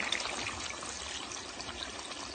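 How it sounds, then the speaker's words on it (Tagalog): Water pours steadily into a pan of Filipino-style paella with chicken, soy sauce and garlic, making a soft, continuous trickling splash with no talk. "Lagyan na tubig"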